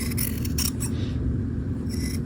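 Scissors snip and scrape through shoulder pad batting for a half-scale jacket in a short, close burst of cutting sounds with no speech.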